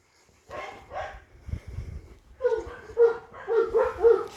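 Several dogs at an animal shelter in Angoumois bark in repeated loud, deep bursts, close by, with a few yips between them.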